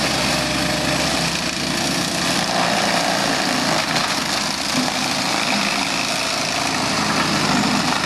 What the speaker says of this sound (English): the Fecon bull hog, and we're running a Loftness carbide mulcher.